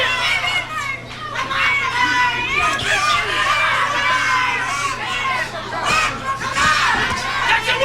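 Boxing arena crowd at a 1997 Bernard Hopkins versus Glen Johnson fight roars and shouts continuously, a loud dense wall of cheering voices with occasional higher yells rising above it.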